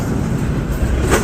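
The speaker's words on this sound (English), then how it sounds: "2 DPUs in the middle. So that's a big train." A long freight train with two distributed power units in the middle rumbling past close by, a loud continuous low roar with rolling texture over the short span, no talk.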